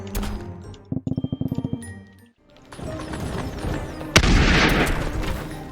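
Musket gunfire in Totally Accurate Battle Simulator, a rapid rattling volley of shots followed by a pause, then a loud booming blast and a sustained roaring crash amid game music.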